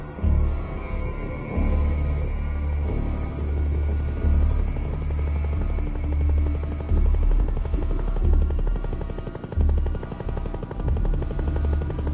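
A helicopter arrives at a landing zone in the video game Metal Gear Solid V: Ground Zeroes, its rotor chopping in a steady, loud thumping rhythm with a whining engine drone, close and continuous throughout.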